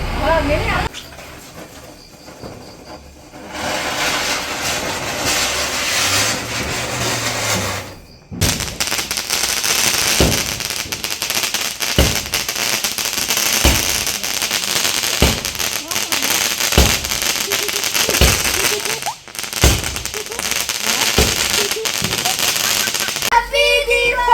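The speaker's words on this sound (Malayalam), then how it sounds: "ചെറിയ പടക്കങ്ങളാണ് പൊട്ടിക്കുന്നത്" Small Diwali firecrackers burst in a rapid series of sharp cracks and pops, some crackling bursts, with voices faintly in the background.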